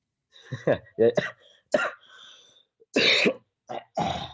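A man coughs several times in short bursts during a heated debate, close and fairly loud, with other voices speaking around the coughs.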